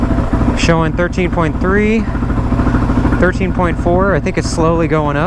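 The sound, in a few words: Suzuki DR-Z motorcycle engine idling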